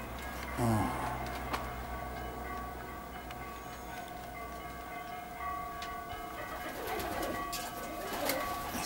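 Perm pigeons coo in soft repeated rolls nearby, with a burst of wing flapping near the start and scattered chirps and distant clatter in the open air.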